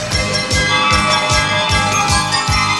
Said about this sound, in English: Yeah, I bet you never thought you'd hear Jingle Bells and He-Man together.